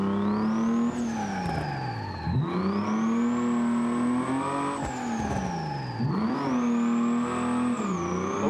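Simulated car engine in BeamNG multiplayer drifting on a small drift island, revving hard in long rising sweeps that drop sharply at each shift or lift, loud and continuous with faint tire squeal and no talk.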